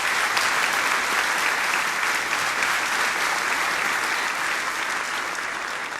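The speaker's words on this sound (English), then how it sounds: "So let's give a round of applause to the Racine Food Bank." Sustained applause from an audience at the 2023 Positively Milwaukee Awards ceremony, steady and dense for the whole stretch, with no voices standing out.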